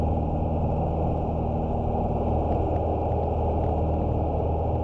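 Small aircraft engine at full power on a rolling takeoff down Runway 21 in a right crosswind, a steady loud droning roar with a low rumbling hum, close and continuous with no talk.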